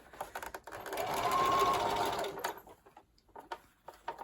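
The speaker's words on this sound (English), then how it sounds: "So now I'm going to just stitch this 3/8 of an inch all along the top here." A sewing machine stitches a seam along the top of a fabric face mask, a close whirring run of a second or so with short stops and starts and light handling clicks around it.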